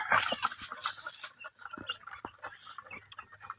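Rhode Island Red chicks and chickens in a poultry pen cluck and peep in short, scattered bursts, several birds close by at moderate volume, with no talking.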